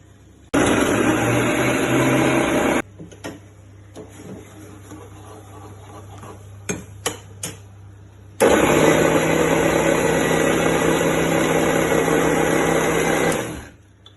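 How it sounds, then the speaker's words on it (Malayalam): A kitchen mixer grinder grinds bread slices into crumbs in two loud, whining bursts separated by a quieter pause with a few clicks and knocks, then runs down to a stop at the end. "ആ ബ്രെഡ് നമുക്ക് മിക്സിയിൽ പൊട്ടിച്ചിടണം."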